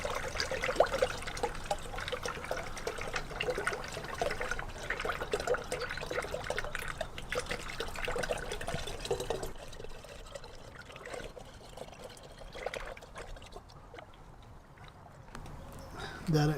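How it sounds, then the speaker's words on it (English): Coolant mix pours into the radiator of a 1988–98 Chevy C/K1500 pickup, a continuous liquid splash and trickle that thins out toward the end, close by and fairly quiet. "let's go ahead and put our coolant in here and fill it up with our mix. Pour half of it into it."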